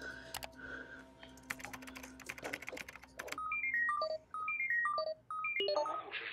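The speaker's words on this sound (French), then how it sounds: "Faut que j'appelle mon psy." Telephone number being dialed: a few key clicks and taps, then a quick run of distinct beeping keypad tones, one per digit, close and clear with brief gaps.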